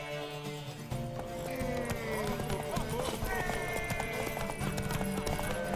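Galloping horse hooves in The Witcher 3, a steady rapid clip-clop with an occasional whinny, set against loud game music and voices talking throughout.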